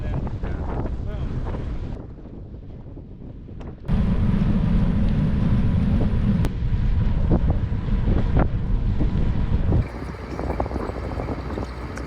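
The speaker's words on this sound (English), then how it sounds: "I feel like it has been pretty much windy all day." Gusty wind along the Maas River rumbles and buffets the microphone during a cycling trip, dropping briefly then surging louder, with faint voices and background noise underneath.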